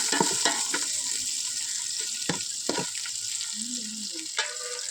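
Mutton biryani ingredients stirred in a hot frying pot, with a steady bright sizzle throughout and repeated scraping knocks of the spoon against the metal, close and fairly loud.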